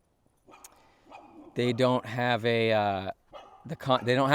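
Dogs in an upholstery workshop bark and yelp loudly nearby in short bursts, with one longer, drawn-out whining bark in the middle.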